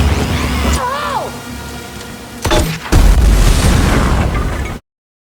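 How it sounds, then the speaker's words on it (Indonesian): An explosion blasts open part of a church wall in a film scene: a sharp heavy boom cracks through after tense rumbling and a rising tone, followed by a long roaring wash of falling debris. "Drasa meledakkan sebagian dinding gereja agar mereka pun bisa lari dari sana"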